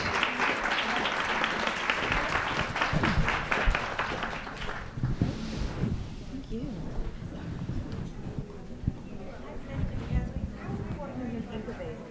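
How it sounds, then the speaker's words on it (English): An audience at a grant-writing panel event claps for the panelists, a sustained crackle of applause that builds and then thins out as people begin talking over it. "So now you can applause for our wonderful panelists."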